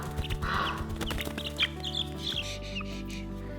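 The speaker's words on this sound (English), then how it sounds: "This is a barred rock chickie." Barred Rock chicks on a farm give a few short, close clucks and peeps against a steady background hum.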